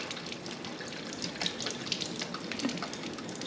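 Alfalfa and broccoli seeds swirled in water inside a jar make a faint continuous sloshing and trickling with soft splashy bursts, close and quiet, with no talking.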